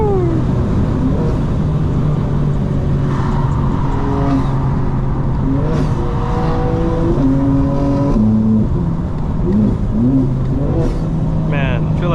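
2025 BMW M4 Competition xDrive heard from inside the cabin, engine note climbing through fourth gear, then dropping at the shift to fifth and climbing again, loud and continuous with someone talking over it.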